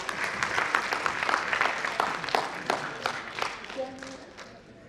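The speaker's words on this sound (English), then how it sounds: "A big clap for her" A conference audience claps for a sports nutritionist as she comes on stage, with dense, even applause fading gradually over several seconds and a brief tonal note near the end.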